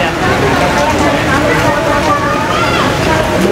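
Heavy rain pours down by a bridge at a crowded outdoor gathering. The downpour makes a dense, constant hiss, and faint voices murmur beneath it.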